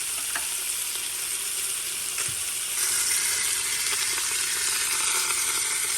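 Meat for a Cuban sandwich sears in a hot pan with a steady, loud, close sizzle that swells slightly halfway through, unbroken by any talk.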